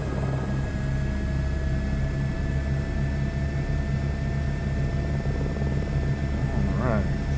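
An Airbus H125 helicopter's turbine spooling up during a cold startup in Microsoft Flight Simulator 2024, a steady droning engine hum with a constant whine, while someone talks over it.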